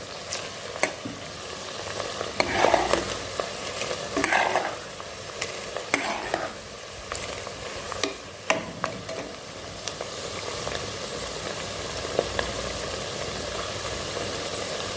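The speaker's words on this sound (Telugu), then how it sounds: "ఆనియన్స్ మట్టికి బాగా వేగాలి. వేగితేనే మటన్ బిర్యానీ బాగుంటుంది." Onions frying and being stirred in a pot for mutton biryani, a steady close sizzle broken by repeated scraping stirs, with no talking.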